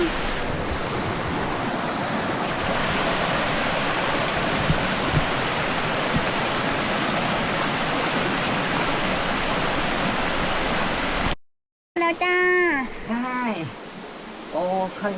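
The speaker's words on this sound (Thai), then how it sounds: "มันเป็นน้ำตกไง" A waterfall pours over columns of lava rock at Sap Phlu falls in Phetchabun, Thailand, a loud, dense, continuous roar close by. After a brief cut near the end, voices speak over it.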